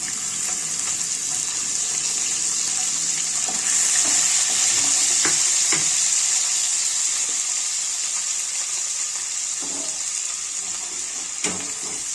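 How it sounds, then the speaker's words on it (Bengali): Chopped onion frying in white cooking oil in a wok for an egg muri breakfast, giving a steady, close sizzle that holds throughout with a few faint stirring clicks and no talk. "পেঁয়াজটা আমি একটু লাল করে ভেজে নেব"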